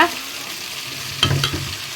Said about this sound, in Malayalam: അപ്പം ഞാനിത് ഇവിടെ ഉണക്ക് ഇങ്ങനെ വറുത്തെടുക്കണം നല്ല അയലമീനാണ് കേട്ടോ